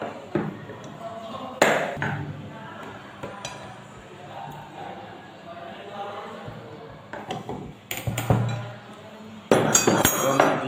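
Metal tools and bolts clinking while fitting starter motor mounting bolts during a starter pinion replacement: sparse sharp clinks and taps at irregular intervals over a quiet workshop background, with speech in between.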